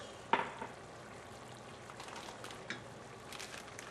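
Grape tomatoes dropping into a pan of sizzling reduced mushrooms, a sharp splashing hiss at the start that settles into a quiet, steady frying crackle with a few faint clinks.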